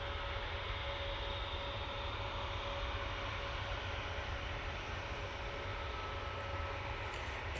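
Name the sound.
Turkish Airlines Airbus A321neo jet at the airport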